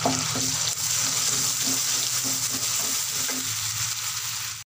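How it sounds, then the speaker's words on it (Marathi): Ground masala paste frying in oil for bhogichi bhaji: a loud, steady, close-up sizzle with a faint rhythmic stirring pulse beneath, cutting off sharply at the end, without any talking. "आणि त्यानंतर मिक्सरला वाटलेला हा मसाला टाकून द्यायचा यामध्ये."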